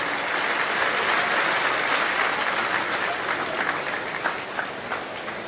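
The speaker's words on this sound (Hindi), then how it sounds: "आपकी तालियों की कोई गड़गड़ाहट हो जाए एक बार" A large crowd at a foundation-stone and inauguration ceremony for the Rajasthan State Sports Institute in Jodhpur claps steadily. The loud, dense applause fills the whole stretch without pause, with a few sharper individual claps near the end.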